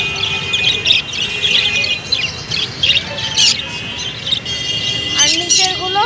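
Caged birds at Baguiati bird market in Kolkata, including cockatiels, give bursts of sharp chirps and tweets in quick irregular clusters, heard close while people talk.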